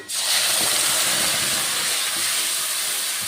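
Gandho bhadali leaves dropped into hot oil burst into a sudden loud hiss that settles into a steady, close frying sizzle.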